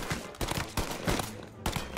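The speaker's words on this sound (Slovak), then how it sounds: "A niekto zase zozadu po mne strieľa." Enemies open fire from behind in the video game Mafia: Definitive Edition, with loud, dense bursts of gunshots and rapid volleys crowding together over two seconds.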